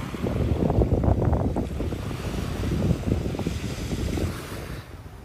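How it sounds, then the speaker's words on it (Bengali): Strong wind buffeting the microphone over surf breaking on a beach in the late afternoon, a loud continuous roar with rolling wave swells throughout and no speech. "বিকাল দিকে হয়েছে, এখন প্রচুর বাতাস"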